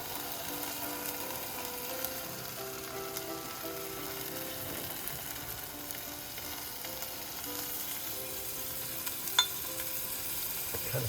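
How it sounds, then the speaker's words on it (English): Coconut milk hits red and yellow curry paste in a hot pan, raising a steady frying sizzle with occasional stirring scrapes and clicks of a utensil against the pan and one sharp clink near the end. "in with a half a cup of coconut milk"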